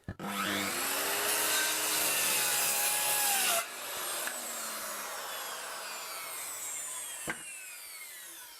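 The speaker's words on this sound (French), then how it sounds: "Test d'encaissage de puissance de la mini centrale avec une petite scie circulaire qui" A 1200-watt mini circular saw cuts through wood: a high whining blade bites in with a loud, even buzzing cut for several seconds, then the motor spins down with a falling whine and a brief final clunk.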